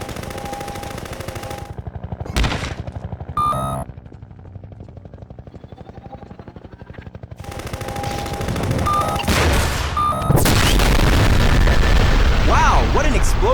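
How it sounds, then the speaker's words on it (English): Loud blasts of tanks blowing up in a cartoon-style game, arriving as several sharp booms and bursts of rapid gunfire-like crackle, closing with a sustained rumbling roar. "I accidentally blew up all the tanks"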